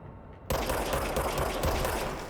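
Rapid gunfire in the video game Control starts abruptly after a brief pause and runs as a dense, loud stream of automatic shots to the end.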